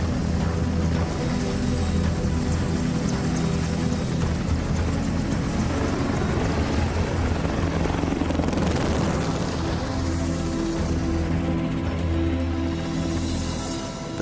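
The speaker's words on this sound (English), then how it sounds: "father of the helicopter, Leonardo da Vinci, would love to fly this helicopter" An EH-101 helicopter flies with a loud, continuous rotor and turbine roar carrying a steady low hum, swelling briefly in the middle before easing off toward the end.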